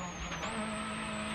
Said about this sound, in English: Let's listen to Mikko Antala as they head up the hill.